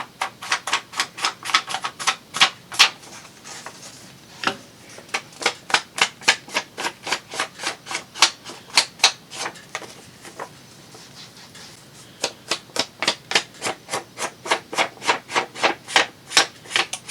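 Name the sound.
inking paper edges with ink applicator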